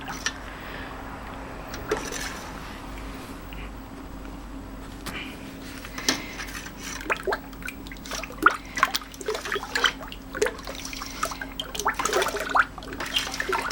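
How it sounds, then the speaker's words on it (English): Natural peanut butter soap batter is stirred, giving soft wet sloshing and slick scraping that grow busier and more frequent over the clip against a faint steady hum. "I'm going to give that a stir."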